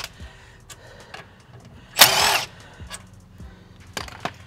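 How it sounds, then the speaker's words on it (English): A power tool briefly whirs while a crusty brake caliper is taken off its bracket, a single loud half-second burst amid quieter clicks and knocks from tools in a car workshop. "we're gonna take off the caliper itself from the bracket."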